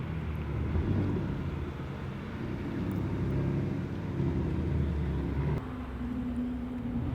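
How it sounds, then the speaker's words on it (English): A Porsche rolls past at the Gold Rush Rally in Scottsdale, a steady low engine rumble amid background crowd and traffic noise, its pitch shifting slightly as it passes. "Here comes a Porsche of some kind."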